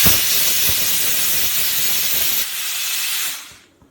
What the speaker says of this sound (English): wait for its steam to get out of by itself